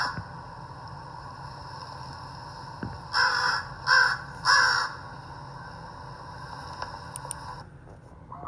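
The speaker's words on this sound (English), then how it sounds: "I would like to play you a sound of the caw of a crow" A crow caws in three loud, harsh bursts in the middle, set against a steady outdoor background hum, with a few faint clicks afterward.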